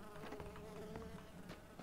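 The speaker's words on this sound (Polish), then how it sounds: "Ta mucha jest creepy, no nie?" A fly buzzing in the game PUBG, a steady close droning hum that holds throughout without a break and with no talk over it.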